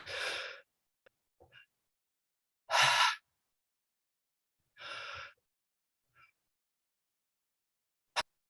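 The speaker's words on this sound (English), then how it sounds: "that's a little more of an intense breath" Three strong, breathy exhalations pushed out through the mouth during a breathwork exercise, each about half a second long and spaced a couple of seconds apart, with faint softer breaths and a small click between them in an otherwise quiet room.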